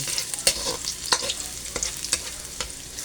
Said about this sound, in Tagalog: Papulahin natin yung bawang.